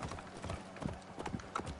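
Horse hooves clip-clopping in the video game Assassin's Creed Origins, a quick steady run of soft hoofbeats heard faintly amid game ambience.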